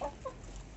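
Newly hatched incubator chicks chirp in brief, high peeps, heard close and fairly faint against a steady low background, with no talking.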